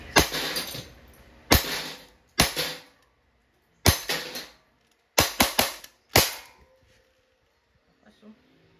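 An Umarex airsoft Glock 17 Gen 5 fires at a steel target. Sharp, loud pops come singly and in quick clusters of two or three with short gaps between, each followed by a faint metallic ring.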